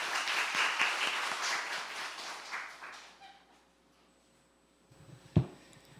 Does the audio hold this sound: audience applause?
yes